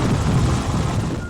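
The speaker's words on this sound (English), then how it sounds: "Also adding to WLUK's coverage was the Sky Scoop helicopter, usually tracking down breaking news" A TV news helicopter flies overhead, its rotor and engine a loud, continuous broadband roar that fades slightly at the end.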